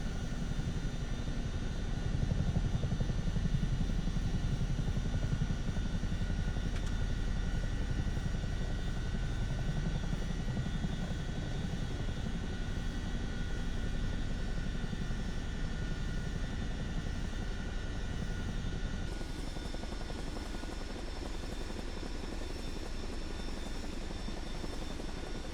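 An aircraft taxis in Microsoft Flight Simulator 2024, giving a steady, loud engine drone with a constant whine that holds unbroken for the whole stretch and eases slightly near the end.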